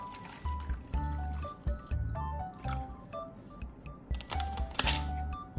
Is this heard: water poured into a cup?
yes